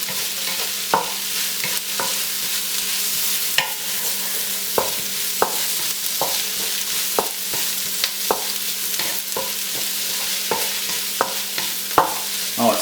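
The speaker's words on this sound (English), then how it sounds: "I'm not really cooking the meat, I'm just heating it up" Already-cooked pork reheats and fries in a pan: a constant soft sizzle is broken by regular sharp clicks and scrapes of a utensil stirring against the pan, close up, with no voices.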